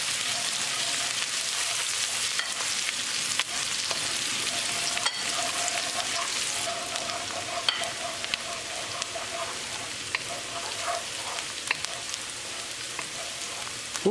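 Ginger, garlic and green chili stir-fry in hot olive oil, giving a steady, dense sizzle with light stirring scrapes throughout, close and continuous at moderate loudness.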